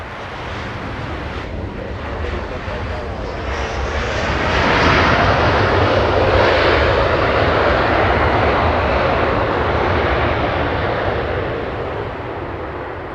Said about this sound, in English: We have the next arrival, Alaska 882, flying in from Hawaii.